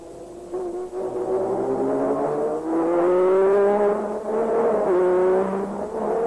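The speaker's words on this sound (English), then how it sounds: "let's join Ayrton Senna at the wheel of this magnificent all-black Lotus in the streets of Monaco" Ayrton Senna's all-black Lotus Formula One car on the streets of Monaco, heard from onboard as a loud, close engine note that rises and falls through gear changes and revs during a warm-up lap.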